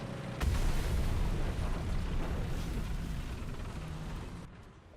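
An SPAA anti-aircraft vehicle in War Thunder fires, a continuous rumbling roar of rapid cannon bursts blurred into one dense barrage that fades out at the end, with no talking.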